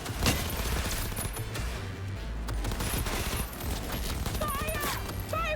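Gunfire in Cyberpunk 2077: Phantom Liberty, dense rapid bursts of automatic weapons firing continuously in a chaotic fight, with electronic whines and effects mixed in.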